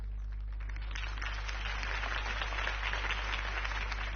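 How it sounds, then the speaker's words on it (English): Crowd applause at a political campaign rally for Harvey Dent in the Batman Telltale Series video game, a steady wash of clapping held at an even level throughout over a low background hum. "If only Mr. Wayne, my campaign's largest backer, could have heard that applause"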